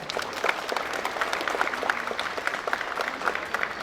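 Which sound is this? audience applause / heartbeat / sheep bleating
audience applause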